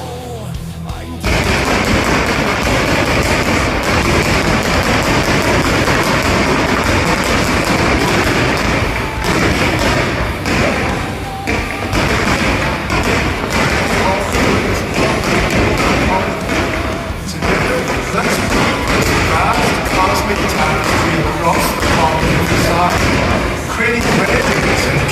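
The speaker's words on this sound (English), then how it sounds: "Silver flash fireworks." Silver flash fireworks burst over the Pompidou Center in a dense, nonstop crackling barrage of sharp pops and thuds, loud and close, with voices murmuring beneath.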